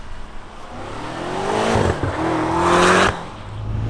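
A Gintani-tuned BMW M5 in two-wheel drive mode spins its tires in a burnout, the engine revving up loud and close with rising pitch and a hiss of tire smoke, cutting off abruptly.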